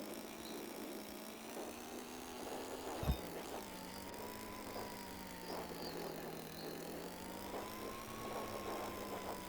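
Virtual dirtbike engine in a VR riding game with gear shifting, clutch and wrist throttle, a steady mid-pitched drone that rises and dips slightly in revs, with a short thump partway through.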